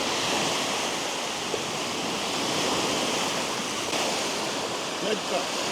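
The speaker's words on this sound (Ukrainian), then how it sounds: "Ох і вітер дує." Strong wind roars steadily and loudly across the microphone while feeder fishing, a constant rushing buffeting that never lets up.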